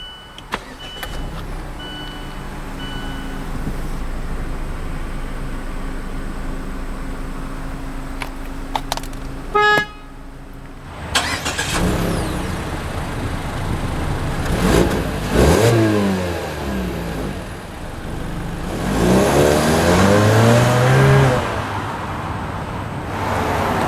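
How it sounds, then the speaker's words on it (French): A 2017 Mazda CX-3 GT is started by push button: a brief starter whir, then the engine catches and idles, followed by revving swells that rise and fall, close and fairly loud. "On va maintenant démarrer le véhicule. Pas besoin de clé, il suffit d'appuyer sur ce bouton."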